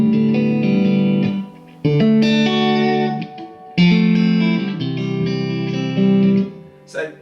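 An electric guitar played through a Bad Cat Cub IV 15R amplifier with reverb set low, ringing out sustained chords and notes in loud, close phrases with short gaps between them and no talking.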